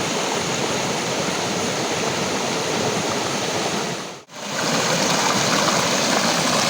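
Water at Choriyankunnu waterfall pours into a small rock pool and churns into foam with a constant loud hiss. The sound drops out briefly just past the midpoint, then resumes.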